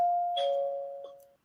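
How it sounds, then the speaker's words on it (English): A doorbell rings once, a clear two-tone ding-dong chime heard close and alone, fading away after about a second. "Let me ring the doorbell"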